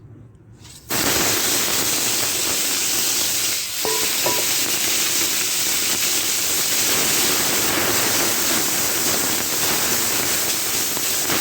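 Mixed small river fish dropped into hot oil in a wok: after a brief quiet start, a loud, sudden burst of sizzling erupts and settles into a continuous, close, roaring hiss. No voices.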